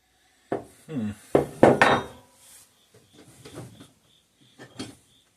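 A dull chisel tapped against the inside of a seized air compressor pump cover, giving several sharp metallic knocks in quick succession, then a few softer scattered taps with pauses between them.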